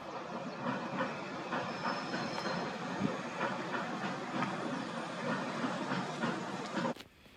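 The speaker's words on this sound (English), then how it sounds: "I can hear a train is approaching the bridge." Near the marshes at Reedham Riverside in Norfolk, a train rumbles across a bridge overhead, a steady hissing roar with faint rhythmic clacks that cuts off abruptly near the end.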